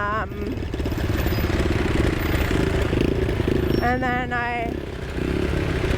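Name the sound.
motorcycle engine running and backfiring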